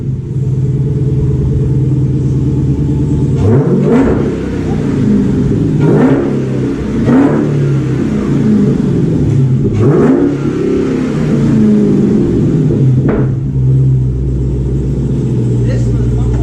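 A widebody Dodge Hellcat revs and accelerates hard, its loud, rumbling engine note rising and falling in repeated surges, with a voice heard over it.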